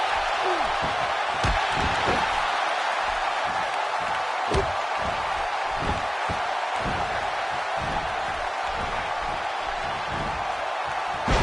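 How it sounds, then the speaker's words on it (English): A big arena crowd roars continuously through a SmackDown wrestling video game match, a broad steady wash of cheering with scattered thuds and slams underneath, moderately loud throughout. "Another electric crowd on hand here for SmackDown, as has been the norm over the years."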